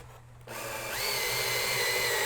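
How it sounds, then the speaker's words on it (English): A power drill drives wood screws into a board, starting with a short burst and then rising into a loud, sustained whine as the screw bites into the wood at close range. "we're going to secure this one first by putting 2 wood screws at the top part of the"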